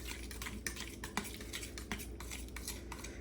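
A spoon stirs cheese into a pot of lasagna soup, giving a steady close scrape and clink of metal against the pot with a few sharper knocks spaced through it.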